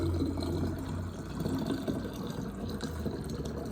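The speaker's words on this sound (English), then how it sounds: "now I'm going to take this liquid and pour it into my bottle" Homemade liquid pours steadily into a bottle up to the neck, a close continuous gurgling splash with no talk.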